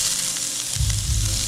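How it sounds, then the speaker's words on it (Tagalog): Ginger sautéing in a home pan gives a steady broadband sizzle that grows louder and fuller partway through, with no voices. "Gisa tayo ng luya."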